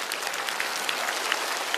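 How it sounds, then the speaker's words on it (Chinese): Brief burst of audience applause at a comedy roast show, many hands clapping steadily at moderate loudness. "来，再次把掌声送给二位。"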